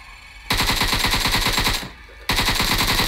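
Automatic gunfire in PUBG Mobile, two loud, close, rapid bursts of rattling shots separated by a brief pause, with no talk.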